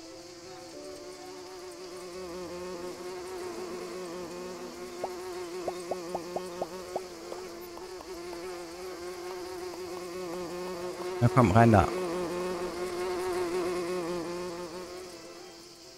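Bees buzz steadily in the farming game Everdream Valley, a soft continuous drone under game music with a short rustle near the end; one brief spoken remark comes partway through.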